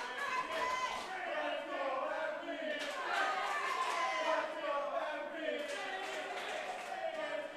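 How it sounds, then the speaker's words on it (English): A wrestling crowd cheers and shouts at an 880 Wrestling main event, a moderately distant, sustained roar of mixed voices with rising swells of yelling and no clear words. "You could hear the crowd cheering on MV Young"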